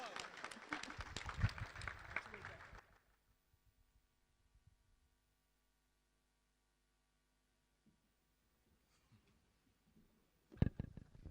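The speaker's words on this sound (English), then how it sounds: "Give my senior a warm round of applause" A small audience at a district elections debate claps briefly, a short burst that stops abruptly, followed by near silence and then another sudden loud burst of sound at the end.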